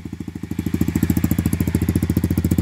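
An Apollo 125cc dirt bike engine idles with the choke off outdoors on a cloudy day, a close, loud, evenly pulsing putter of rapid regular firing beats that settles into a steady rhythm after a brief start.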